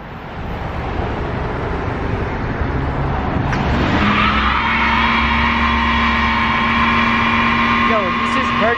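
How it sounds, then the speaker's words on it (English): A Ford Mustang burns its clutch: a loud car engine and rising tire squeal build after a few seconds into a sustained high whine, heard from nearby outdoors. "Yo, he's just burning his clutch, I think."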